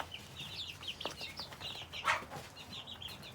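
Chickens, including black Pavlovsky birds, cluck and chirp in a coop, a busy overlapping chatter of short high calls with a louder squawk and a brief rustle partway through.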